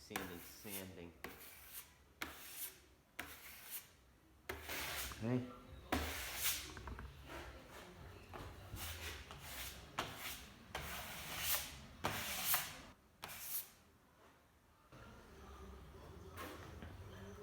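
A trowel skim-coats a wall before painting, making repeated scraping and smoothing strokes in an irregular rhythm, with a few faint spoken words.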